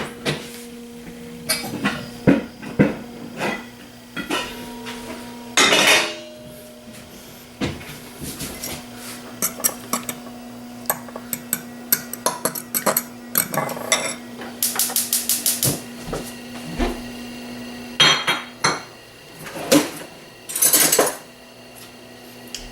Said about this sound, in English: Now we're going to mix our eggs up. Get a pan heated up.